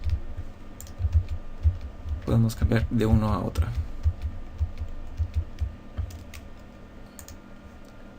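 A computer keyboard shortcut being pressed gives a quick run of close, light key clicks. Someone speaks Spanish over part of it.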